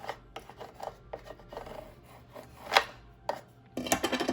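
A scraper tool is rubbed firmly over vinyl transfer tape on a surface, giving a series of short raspy scraping strokes, close and fairly loud, ending in a denser burst of scraping.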